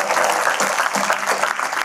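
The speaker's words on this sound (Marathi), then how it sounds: "आपण स्वागत करूया यांचं जोरदार टाळ्या" An audience applauding loudly to welcome a guest at a jewellers' motivational talk, a brisk, steady roar of many clapping hands from start to finish.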